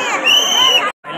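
Dense crowd of devotees at Lalbaugcha Raja during night darshan, a loud close-up babble of shouting voices that cuts off abruptly and resumes briefly.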